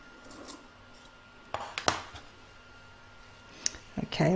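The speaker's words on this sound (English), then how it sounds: "I'm just going to trim that down." Scissors trimming quilt batting on a lined bag, a few sharp metallic snips spaced apart, close and fairly quiet, with a voice speaking around them.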